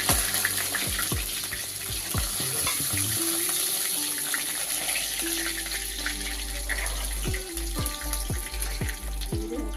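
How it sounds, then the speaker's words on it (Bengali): Spices frying lightly in a pan for a hilsa fish curry give a steady, close sizzle that runs unbroken for the whole stretch, with faint kitchen clinks and no voices. "মশলা ভাজা হয়ে গেছে হালকা করে"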